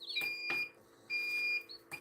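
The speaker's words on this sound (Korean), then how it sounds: "또 알람이 울리고" An egg incubator alarm beeping while chicks hatch: clean high electronic tones sound in repeated short bursts and longer held beeps, with faint chick peeps mixed in, close and fairly quiet.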